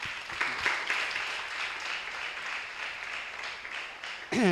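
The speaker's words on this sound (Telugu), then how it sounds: "ఆయన కొరకు అందరూ క్లాప్స్ కొడదాం" A crowd at a women's gathering claps steadily, a fairly soft, even patter of many hands, rising to a brief louder burst right at the end.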